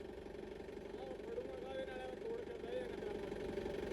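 A push-started motorcycle idles with a steady, moderately loud mid-pitched drone that holds evenly for the whole stretch, with muffled voices faintly underneath.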